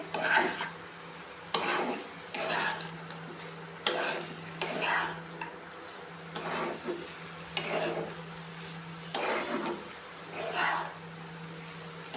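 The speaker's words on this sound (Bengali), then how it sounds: "এখন ভালো করে মিক্স করে নেব এটি সবগুলিকে" A spoon scrapes and stirs cabbage curry in a pan in repeated strokes, each with a faint sizzle of frying underneath and a steady low hum behind it.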